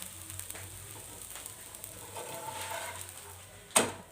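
A dosa roasts on a pan, giving a soft, steady sizzle and faint crackle throughout, fairly quiet, with one sharp clatter of a utensil near the end.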